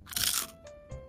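A plant stem is squeezed and bent by hand outdoors, giving one loud dry crunch followed by two softer crackles, close up, with no talking.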